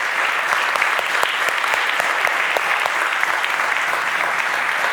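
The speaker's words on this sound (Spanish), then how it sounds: "vamos a dar un último aplauso a Iria, Adrián, Sofía y Jorge" An audience applauds after a string quartet concert, full, dense clapping from a large crowd filling the hall at an even, sustained level with no break.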